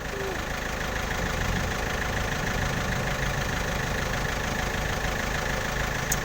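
A tractor-type engine idles with a steady low rumbling chug, loud and close, running continuously without any change in pace.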